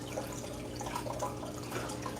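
Water runs steadily in the background on a warm day outdoors, a faint, continuous trickling wash with dripping texture and no voices over it.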